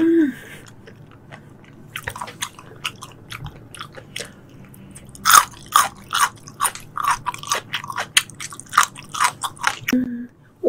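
Close, loud chewing and biting of tuna sashimi at a mukbang meal, a steady run of wet crunching bites filling most of the stretch, with brief quiet moments at the start and end.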